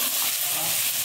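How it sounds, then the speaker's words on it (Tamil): Onions and curry leaves sautéing in a pan for semiya rava upma, a continuous bright hiss of frying that stays even and fairly loud throughout this short moment. "வெங்காயம், கருவேப்பிலை சேர்த்து நல்லா வதக்கி வச்சுக்கலாம்"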